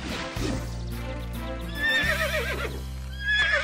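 Cartoon horse whinnying, a long wavering neigh that rises and trails off, followed by a second shorter whinny, set over a steady music bed with hoof clip-clops.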